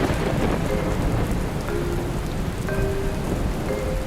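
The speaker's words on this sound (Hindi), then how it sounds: "तुम दोनों बारिश देखो" Steady rain pours down on a surface, a dense continuous hiss throughout with a few faint tonal sounds drifting in over it.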